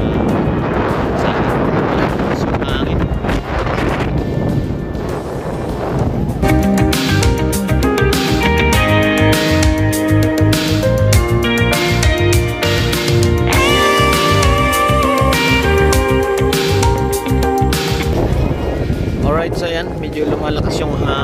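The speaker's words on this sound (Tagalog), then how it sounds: "malakas yung hangin." Heavy wind buffeting the microphone during a boat tour in El Nido, Palawan, a loud continuous rumble, with a tonal engine-like hum and clattering running through the middle.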